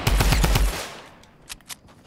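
A rapid burst of gunfire from a gun in console Fortnite, about half a dozen loud close shots in quick rhythm, followed by a quieter stretch with a couple of faint sharp clicks.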